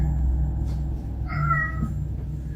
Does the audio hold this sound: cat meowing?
yes